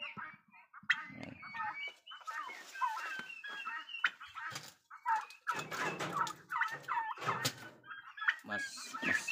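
Narragansett turkeys gobble repeatedly in a farm pen, with overlapping calls and clucks rising near and loud, a steady flock chorus throughout.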